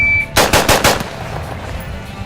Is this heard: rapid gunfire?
yes